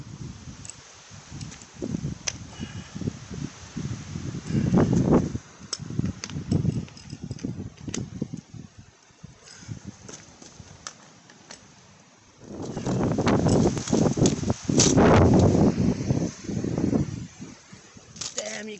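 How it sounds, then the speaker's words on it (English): Wind blows outdoors where a bicycle with hydraulic brakes is being worked on, first in softer gusts and then in a loud, rushing roar of buffeting across the microphone, with a voice at times. "Oh man, I'm so sick of this freaking wind, man."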